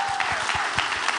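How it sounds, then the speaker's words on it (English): A brief, dense patter of audience applause for a panel, steady claps at moderate volume over a faint lingering tone, without voices. "please give our panel a round of applause"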